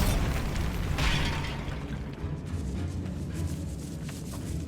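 A Bombarda spell explodes in Hogwarts Legacy with a loud, booming blast that rolls into a long, rumbling decay of crumbling debris.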